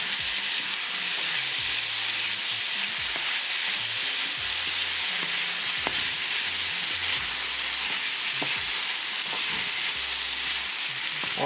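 French beans with hoisin sauce sizzle steadily in a hot pan, a constant frying hiss with occasional scraping clicks as they are stirred, with no talk.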